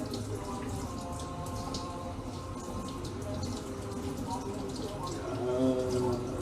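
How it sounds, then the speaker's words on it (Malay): Tap water runs over cooked fava beans being rinsed for kacang pool, a steady splashing stream with light dripping, while someone talks over it throughout. "Jadi kita cuci sikit, jalankan air ke atas kacang ini."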